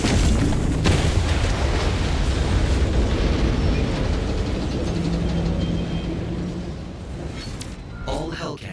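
A long, loud rumbling blast of explosions as cannons are destroyed in the video game Doom: The Dark Ages, heavy low-end roar sustaining for several seconds before tapering, followed by a brief electronic chime.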